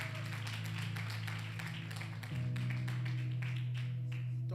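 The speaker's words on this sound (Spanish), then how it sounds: "Dale un aplauso al Señor." Church congregation claps for the Lord in steady, dense applause under a sustained organ or keyboard chord that shifts pitch midway, moderately distant and continuous throughout.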